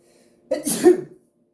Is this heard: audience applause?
no